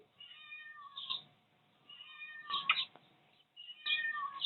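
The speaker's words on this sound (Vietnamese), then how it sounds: "mèo" A cat meows repeatedly in a quiet setting, three drawn-out mewing calls with short pauses between them, close and clear.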